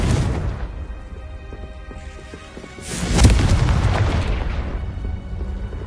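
The Confringo fire spell from Hogwarts Legacy goes off as a swelling, rumbling explosion that peaks sharply midway, with crackling debris and a roar that slowly fades. No voices.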